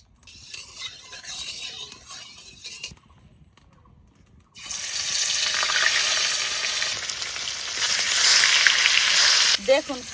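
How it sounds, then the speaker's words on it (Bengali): Fresh pond fish cut into large ring pieces fry in mustard oil in a wok. Softer sizzling comes first, then a loud, close, steady crackling sizzle with small pops takes over from midway, and no one speaks. "মাছ ভাজার জন্য কড়াইতে সর্ষের তেল দিয়ে দেবো।"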